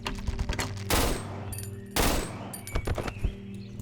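Two loud, close gunshot blasts in the horror video game Cry of Fear, each sharp crack followed by a ringing tail, with a few lighter clicks and pops between them over a low game drone.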